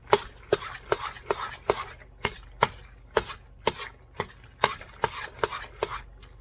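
Macaroni and cheese ingredients mixed in a pot, a spoon striking and scraping the sides in a steady rhythm of sharp, close knocks, about two per second.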